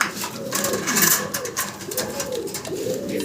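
A fancy pigeon coos in repeated low, rolling calls, close by, over a busy background of other pigeon sounds and rustling.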